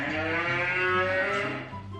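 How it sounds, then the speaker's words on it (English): A cow gives a single long, loud, close moo that holds for about two seconds and then fades, with no talking. "No, that's a cow."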